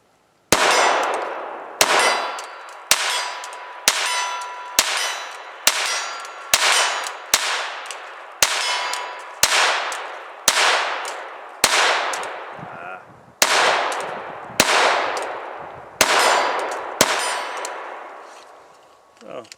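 A TX 22 pistol fires about fifteen shots at a steel silhouette target 30 yards out, each crack followed by a bright ringing clang of the steel, spaced roughly a second apart, loud and outdoors.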